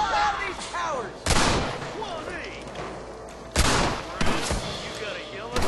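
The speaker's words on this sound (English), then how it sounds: "Let's shoot the hell out of these towers!" Gunfire aimed at towers in the western game Red Dead Redemption cracks out in loud, close bursts, with two heavy volleys and scattered shots between them, while voices shout in the background.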